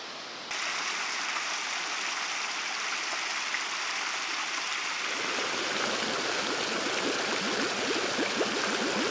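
A freshwater spring stream flows beside the Cedar River with a steady, close rushing and splashing that runs without pause and thickens partway through.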